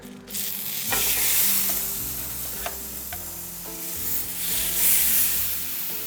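Steak searing on a preheated griddle gives a steady close sizzle with scattered pops and crackles, rising and falling as the meat shifts.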